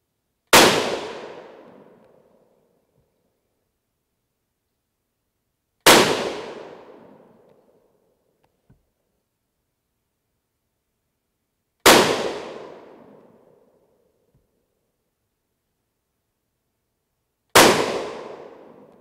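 .223 Remington rifle firing 40-grain V-Max loads over N133 powder: four sharp, loud shots spaced about six seconds apart, each with a brief decaying ring, and no talking.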